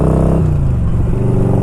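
A 1992 Harley Davidson Electra Glide Sport engine running on a test ride, a loud close rumbling drone whose pitch drops as the revs ease off, steady and unbroken.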